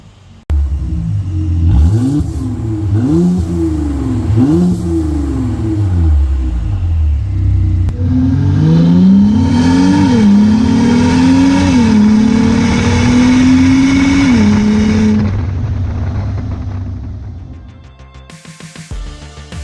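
A Mercedes E63 turbo station wagon revs hard with its exhaust valves open, climbing through repeated loud, close pulls and gear shifts with burbles before the engine note drops away near the end.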